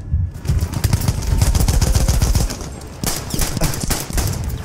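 Rapid automatic gunfire in Battlefield 1 online multiplayer on PS4, dense bursts of close shots rattling almost continuously, a brief lull near the middle before more volleys resume.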